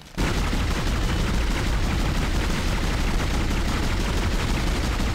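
Gunfire in the video game Dead Space: a sustained burst of rapid shots begins abruptly and keeps up a loud, dense, unbroken rattle for several seconds.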